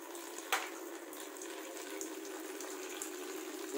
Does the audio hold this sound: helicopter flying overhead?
no